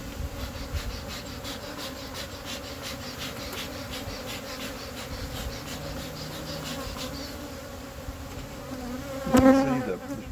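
Honey bees buzz steadily during a beehive inspection, a close, continuous droning hum with individual bees passing near, plus a brief louder buzz close by toward the end.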